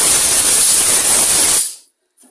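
A loud, steady hiss of compressed air blowing hard onto a Honda lawn mower carburettor, cutting off abruptly after about a second and a half, then near silence.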